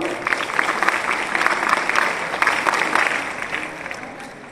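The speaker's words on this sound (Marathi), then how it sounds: "सर्व विद्यार्थ्यांनी स्काउट पद्धतीने टाळ्या वाजवून त्यांचं स्वागत करावं" Students clapping in scout style to welcome a guest at a school sports felicitation ceremony, a steady burst of rhythmic group applause lasting a few seconds, fairly close and loud.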